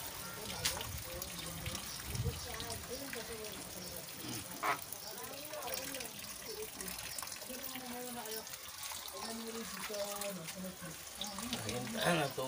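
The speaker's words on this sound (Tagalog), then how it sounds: "Ayan ka na, tubig. Hindi pa puno." Water running from a tap into a container during laundry, a steady trickling flow with someone talking intermittently over it.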